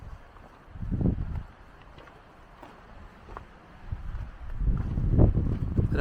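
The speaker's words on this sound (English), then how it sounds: "Listen to the wind blow through the pines." Wind gusts through pine trees on Guadalupe Peak, rising in two rushing surges around a quieter lull, close to the microphone, with no one talking.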